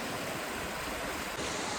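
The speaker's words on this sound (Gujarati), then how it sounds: "ઝરણું વહી રહ્યું છે" Water of a stream flowing near a waterfall in a hilly area, a steady, close, full rushing wash that continues unbroken with no voices.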